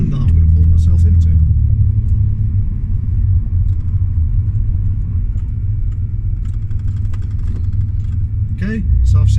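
A car drives slowly up a road, its engine giving a steady, close, low rumble throughout, with a few brief clicks and knocks over it.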